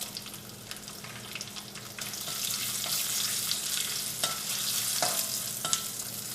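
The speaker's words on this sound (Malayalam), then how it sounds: "കുറച്ച് വേപ്പിൻ്റെ ഇല ചേർക്കാം. ഉണക്കമുളക് ചേർക്കാം." Curry leaves and dried red chilies hit hot oil with urad dal in a pan for a Kerala brinjal curry, giving a steady, close hiss and crackle with a few sharper pops and stirring scrapes.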